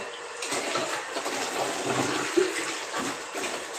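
Water runs steadily from a tap, a continuous close hiss and splash with slight variations in flow.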